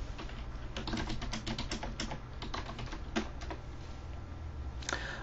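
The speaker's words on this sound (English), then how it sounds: "I would simply type it in." Computer keyboard keys are typed in quick, uneven bursts at close range, some keystrokes landing harder than others. Pauses break up the runs, and one louder tap closes the sequence.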